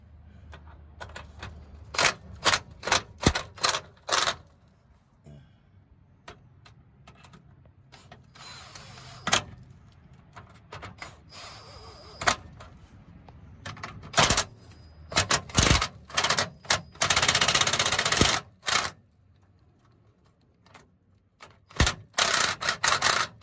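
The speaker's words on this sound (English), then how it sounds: "Just use my impact on these." An impact wrench drives bolts on a 1994 Ford Ranger during reassembly after a clutch install. It fires in short, sharp rattling bursts separated by pauses, loud and close.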